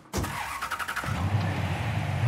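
A car engine in the Mafia 3 video game cranks and catches after a brief starter whine, then settles into a steady, close idle that swells slightly toward the end.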